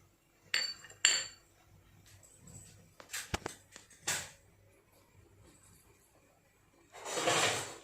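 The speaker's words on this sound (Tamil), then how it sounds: "இது வச்சு ஒரு கரண்டி வச்சு நல்லா இதை கலக்கி விட்டுக்கலாம்" A spoon stirs an herbal immunity drink in a metal vessel. Sparse, sharp clinks and scrapes come up close in separate bursts, with quiet gaps and a longer rattle at the end.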